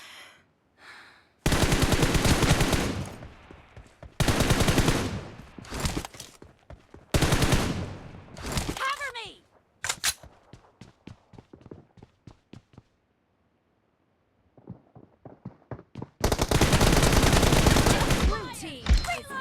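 Shooter video game gunfire, loud automatic bursts of rapid shots separated by pauses, with scattered single shots and quieter gaps in between.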